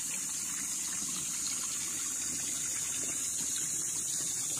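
Water flows steadily from a natural spring beside a river on farmland in Calauan, Laguna, a continuous faint rushing gush with no voices.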